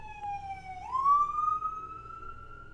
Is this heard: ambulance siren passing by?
yes